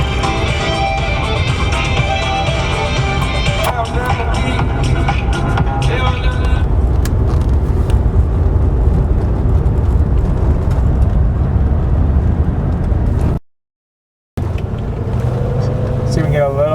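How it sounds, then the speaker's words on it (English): Mercedes car on the move, its engine droning steadily from inside the cabin as it drives and shifts, with a voice faintly present over the road noise and a brief dropout near the end. "Hear that it shifts very smoothly"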